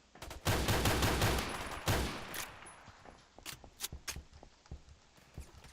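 Shotgun fire from a Remington loaded with bird shot in the shooter game Phantom Forces: a dense burst of rapid shots for about two seconds, then scattered single blasts and clicks at varying loudness, with no talk.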